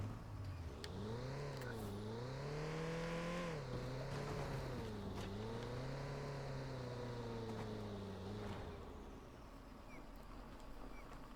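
Hatchback car engine in the video game Watch Dogs 2, a steady loud drone that rises and falls with the revs as it drives, easing off near the end.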